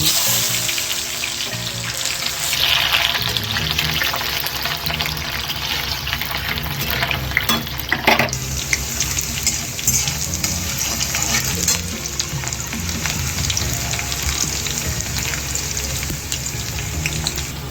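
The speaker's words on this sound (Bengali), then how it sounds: "হ্যাঁ, আমি দিচ্ছি পেঁয়াজ।" Onions sizzle and fry steadily in hot oil already seasoned with cardamom, cinnamon and cloves, a continuous close crackle with stirring and occasional water-like splashes, no talk, part of a Bengali chicken curry cooked with curd.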